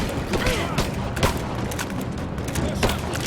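Gunfire rings out in the video game Rise of the Tomb Raider as a rapid series of sharp cracks and booms over several seconds, loud and close, with a voice speaking faintly underneath.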